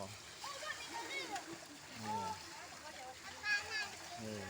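Water splashes and sloshes faintly at a villa on the Andaman coast, a soft continuous wash under children's lively chatter and a voice.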